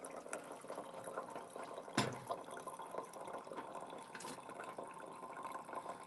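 Coffee dripping slowly into a thermal carafe from a brewer, a faint continuous trickle of liquid with one brief louder clunk near the start.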